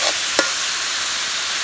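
Spinach frying in a pan gives off a steady, even sizzle, broken by two quick scraping strokes of a spoon near the start.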